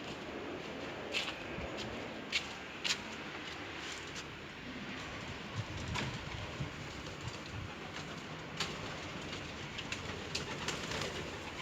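Soft, continuous pigeon chatter and cooing fill a coop, with occasional brief flutters and thumps over a steady background hum.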